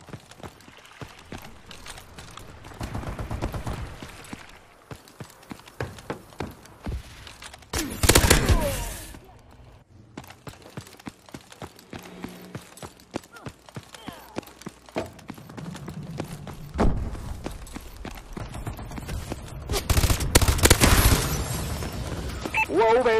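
Gunfire in Call of Duty Advanced Warfare during a Domination match against bots on the Solar map: scattered rapid shots and several louder bursts, with a game announcer's voice speaking at times.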